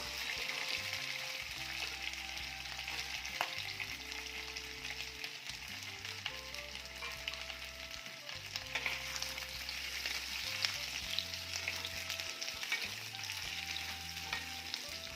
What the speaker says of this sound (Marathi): आता या तेलामध्ये हे बटाटे आपण परतून घेणार आहोत